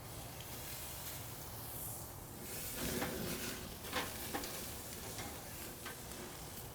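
A rested tri-tip beef roast goes back onto a stoked PK charcoal grill to sear, giving a soft, steady sizzle with a few light clinks and bumps from handling, fairly quiet and without voices.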